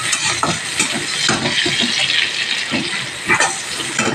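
Chopped onion and garlic sizzle in hot oil for a Bengali masoor dal, with repeated scraping stirs of a spatula against the pan close by and no talking.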